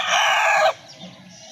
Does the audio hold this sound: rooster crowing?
yes